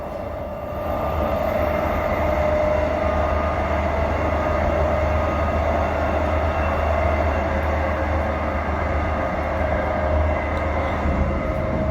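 A train runs on the Thornlie-Cockburn railway line beside a freight railway, heard from inside as a loud, steady rumble with a constant hum and no let-up, after a brief quieter start.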